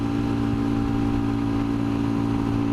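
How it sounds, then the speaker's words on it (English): A Royal Enfield Scram motorcycle engine strains at about 60 mph uphill in third gear, a steady loud droning hum mixed with wind rush and no voices. "The engine's making protest noises"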